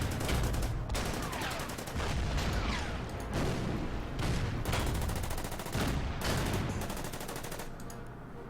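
Gunfire aimed at a Sherman tank in the Order of Battle strategy game rattles in loud, dense bursts of repeated shots, about six separate volleys with brief gaps between them, close and continuous throughout.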